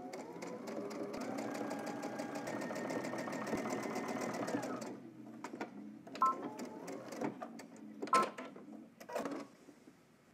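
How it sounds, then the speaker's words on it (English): Sewing machine running steadily for about five seconds, top-stitching a fly front on a garment, then stopping, followed by a few short bursts of stitching and light handling clicks. "We're going to do two rows of stitching to stitch down our fly front underneath"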